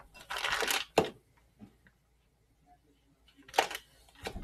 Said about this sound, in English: Cut your butter.